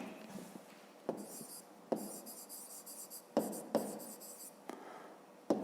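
Pen writing an answer on paper for a fifth-grade maths exercise, with soft scratchy strokes in short bursts and several sharp taps, close and quiet, without talk.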